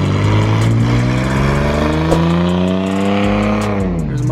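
A purple Ford Mustang at a car meet revs hard nearby, its loud engine note climbing steadily in pitch and then easing off near the end, with no talking.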